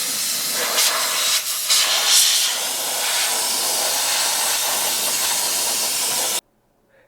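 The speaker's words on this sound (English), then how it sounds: "blow some compressed air all around the valve cover" A loud, steady hiss of compressed air blown around an engine's valve cover continuously for several seconds with slight bursts, then abruptly cutting off to silence.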